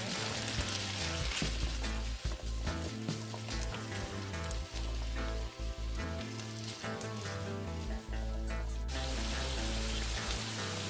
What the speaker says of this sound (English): The peppers and onions have been cooking up for about 3 minutes now